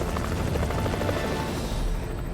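A helicopter flies overhead above tree-covered Rocky Mountain terrain during a search, its steady rotor chop and engine roar loud and continuous without a break.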